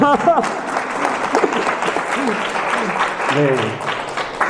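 An audience at a brain trainer conference in Busan claps briefly, a short burst of applause with a speaker's voice carrying over it.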